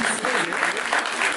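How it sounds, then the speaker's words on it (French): Guests at a gala networking event break into applause, a dense, loud burst of crowd clapping that holds steady throughout, with voices mixed faintly into the din. "Vos applaudissements, s'il vous plaît."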